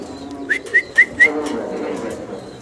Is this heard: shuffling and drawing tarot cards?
no